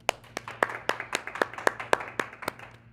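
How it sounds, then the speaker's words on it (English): Slow, sparse clapping from a small town hall audience, about a dozen distinct claps spaced evenly with a faint background hum. "round of applause for Flying Bison"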